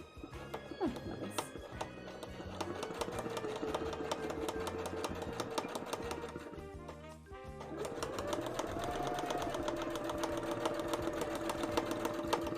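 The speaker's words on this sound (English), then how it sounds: "I think it's going to be that I can sew the most if I sew it from this angle" A sewing machine stitches a cosplay costume in a continuous rapid mechanical chatter, close and steady, with a brief pause midway before the needle runs on.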